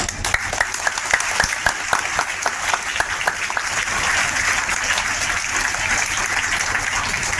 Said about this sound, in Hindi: इसके लिए एक बार तो ताली बनती है